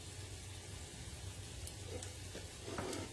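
Fritters fry in a pan with a faint, steady sizzle, broken by a few soft stirring clicks and scrapes.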